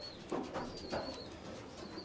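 Pigeon squabs hand-fed by their keeper give soft, close, wheezy cooing calls, a few short repeated notes with a thin whistling tone, quiet and alone.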